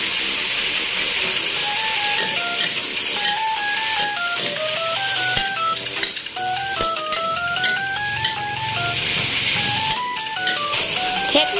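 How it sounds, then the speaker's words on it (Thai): Sliced Thai eggplant stir-frying in a hot pan for a basil stir-fry, giving a steady, close sizzle beneath light background music. "ใส่พระเอกของเรานะคะมะเขือเปราะที่เราหั่นไว้ ลงไปได้เลยค่ะ และผัดต่อนะคะ"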